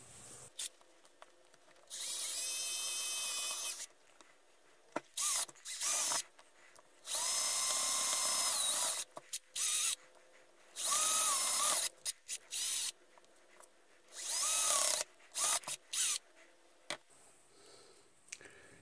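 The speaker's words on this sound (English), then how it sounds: "drill a couple of holes to allow the new caps to come through" A power drill whines in four separate bursts of a few seconds each, drilling holes in metal for an electrolytic filter can, close and loud, with clicks and handling noise between runs.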